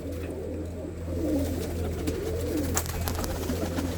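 Pigeons perched together in a village near Samrala, Ludhiana district, coo in low, throaty repeated calls over a constant background hum, fairly close and with no talk.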